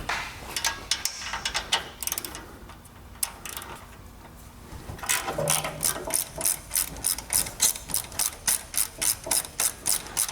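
Rapid metallic ratchet clicks from a wrench loosening E12 Torx bolts on a Porsche 992 GT3 exhaust, starting in scattered bursts then settling into a steady, close, evenly spaced clicking run with no talking.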